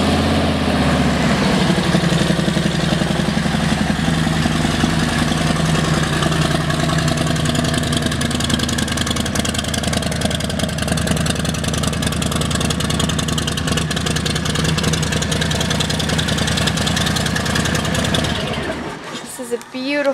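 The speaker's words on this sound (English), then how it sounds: "Let's listen to the exhaust." A 2018 Harley-Davidson Softail Street Bob with low mileage idles in a dealership, its exhaust giving a steady, loud, uneven V-twin rumble for about eighteen seconds before cutting off abruptly.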